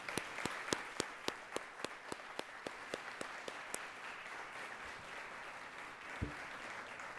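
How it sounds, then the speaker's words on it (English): Applause from the audience at a Columbus Metropolitan Club panel forum: faint, evenly spaced claps that keep a steady beat and fade out after a few seconds, leaving quiet room tone. "Big round of applause to all of them."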